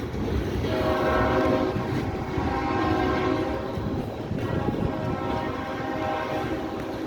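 A Norfolk Southern freight train rolls steadily across the Delair Bridge, its loud horn blaring in long sustained blasts over the continuous rumble and clatter of passing cars, close and unbroken throughout.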